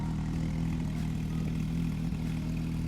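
A 2016 Porsche 911 GT3RS fitted with a Soul exhaust holds a steady engine drone, a continuous low hum at a fairly even pitch for about three seconds with no talking.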